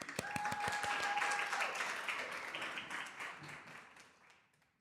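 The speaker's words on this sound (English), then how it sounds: "Let's give an applause for Dan so he knows." An audience applauds presenter Dan at a financial literacy and real estate talk. Dense clapping starts near full strength, then gradually thins and fades over a few seconds, with a couple of whistles early on.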